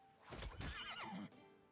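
A horse in the video game Ashes of Creation lets out a sharp, quavering whinny that slides downward, preceded by a couple of heavy thumps, all faint and brief.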